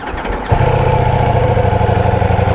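Ducati Diavel V4 motorcycle, a V-shaped four-cylinder of about 170 horsepower, cranks briefly and fires into a loud, close, steady idle with a throbbing low rumble that holds to the end.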